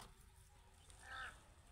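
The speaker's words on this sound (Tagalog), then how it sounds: "Daming uwak ko." A single crow caws once in the distance over a calamansi orchard, faint against a low background rumble.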